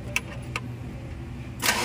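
A car engine turns over and catches after repair, with a couple of brief clicks before it rises into a running rumble at the end.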